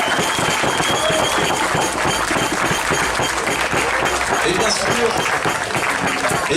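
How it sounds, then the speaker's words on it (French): Thunderous applause from a large crowd fills the whole stretch, dense steady clapping with a faint voice underneath. "j'aimerais un tonnerre d'applaudissements à l'homme de l'ombre"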